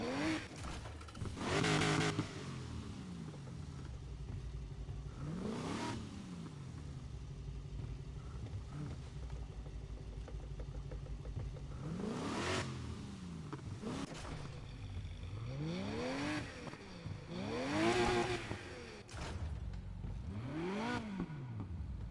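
Car with a big turbo and a 6.4 Scat motor revving in NFS Heat, the engine note repeatedly swelling and falling in loud sweeps over a steady rumble, with no talking.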